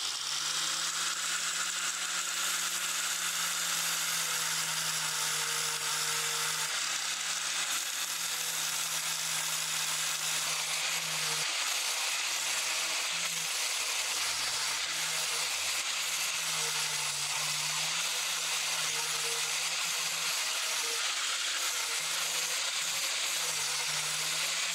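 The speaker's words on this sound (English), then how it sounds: "Then we'll come in with the first tool, which is the angle grinder with the first of the flat discs on." An angle grinder fitted with a flat disc skims down an aluminium weld on a custom classic cafe racer fuel tank, giving a steady, close, harsh whine and hiss that runs without a break.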